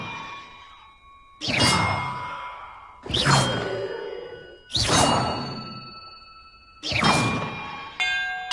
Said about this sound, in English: the order I'm supposed to ring the bells in